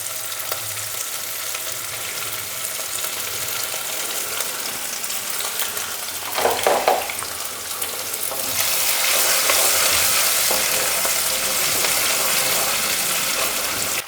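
Cumin, finely chopped garlic and ginger fry in a pan for gajar matar sabji, giving a steady close sizzle with a brief stirring burst midway. The frying grows louder and hissier as more is added.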